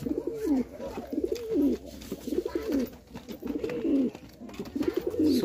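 Giribaz pigeons cooing close by, several rhythmic bursts of low throaty coos repeating through the whole stretch, with light background noise.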